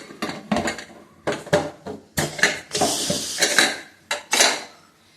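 A metal cooking pot and lid clatter and clank in a series of close, loud bursts as the lid is handled and set closed on a pressure cooker of ridge gourd gojju.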